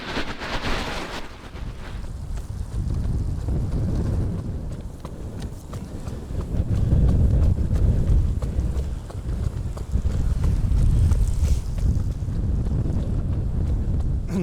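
Steady outdoor wind buffets the microphone during a windy road run, a continuous low roar that surges louder in gusts around the middle and end, with no voices.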